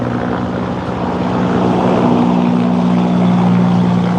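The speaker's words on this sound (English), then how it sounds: "Sounds like a military helicopter." A military helicopter flies directly overhead near a military base, its loud steady rotor drone swelling slightly as it passes, with a constant engine hum and no talk.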